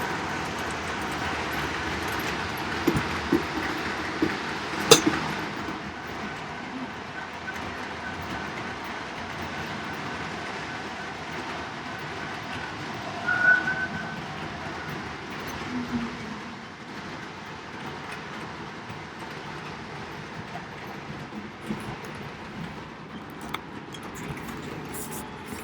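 Continuous low rumble of small trains running on track, with occasional clicks and clacks scattered throughout, steady and moderately close.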